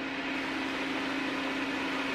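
A blender whirs steadily while blending thick hummus with olive oil, a constant even drone at moderate volume with no talk.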